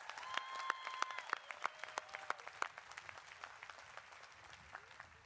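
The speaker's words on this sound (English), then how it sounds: "Let's give those four a big round of applause." Audience applause at the 2021 Cal Poly spring commencement ceremony, sparse and moderately distant, with individual claps standing out and a few brief tonal sounds early on, thinning toward the end.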